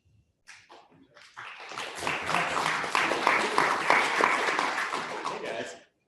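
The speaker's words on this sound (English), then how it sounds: "thanks for the round of applause" Audience applause for a guest speaker in a university information architecture class, building from a few scattered claps into sustained, dense clapping for several seconds before cutting off abruptly.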